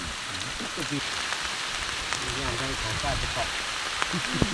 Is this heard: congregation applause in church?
no